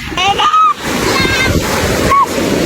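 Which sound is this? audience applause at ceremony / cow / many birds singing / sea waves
sea waves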